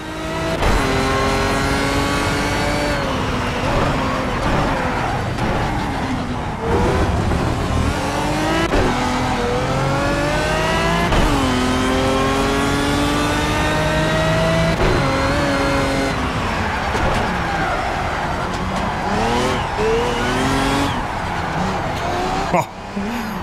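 A Pagani Cinque Roadster's race engine in the driving game Project CARS revs loud and continuous, pitch climbing and dropping through gear changes, with brief tyre squeal in corners.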